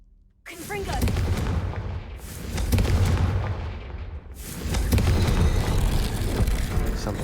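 A Confringo blasting spell in a video game going off in a few loud booming explosions, each followed by a long rumbling roar that fills the space.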